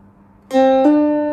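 Two plucked notes, do then re, on a phin lute ring out, the first at about half a second and a slightly lower second soon after, both sustaining clearly with no talking.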